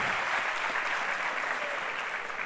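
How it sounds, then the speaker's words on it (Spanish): A comedy show audience applauds steadily throughout, a dense, even wash of clapping with no talk over it. "aplaude a la gente que le gusta Pehuenco"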